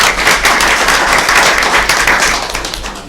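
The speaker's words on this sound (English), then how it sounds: "Let's give them a round of applause." Applause from an audience at a county board of education meeting, a dense, loud burst of many hands clapping together and continuing steadily before starting to thin out near the end.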